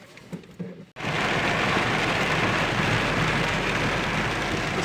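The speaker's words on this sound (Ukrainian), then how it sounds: "такий сильний дощ" Heavy rain pours down steadily and loudly, a dense continuous hiss, after a brief quieter moment at the start when the downpour is not yet heard.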